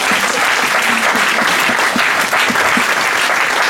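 Church congregation applauding together, a dense, steady wash of clapping that fills the room and holds loud throughout with no voices standing out.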